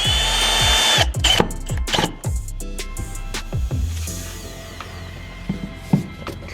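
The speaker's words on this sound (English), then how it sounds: "I need to drill these out" A power drill whirs in short, repeated bursts on a 2015 Chevy Malibu, revving up and winding down each time. Close by, with faint mechanical clicks between bursts.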